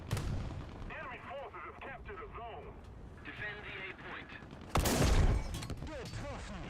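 A tank gun in a video game fires one heavy, booming shot that stands out over a quieter background of battle noise, with someone talking throughout.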